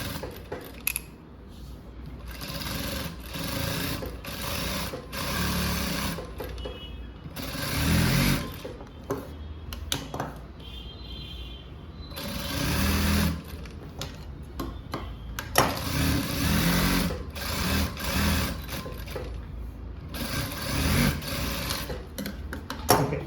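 Sewing machine running in steady bursts as it stitches an unlined blouse, loud and close, with rapid mechanical ticking and short pauses between runs.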